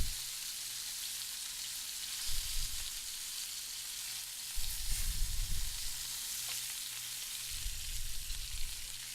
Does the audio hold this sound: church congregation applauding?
no